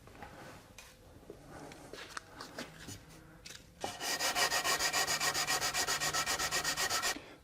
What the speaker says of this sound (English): So what I'll do is sand in a circular motion.